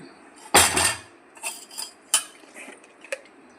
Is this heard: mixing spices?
yes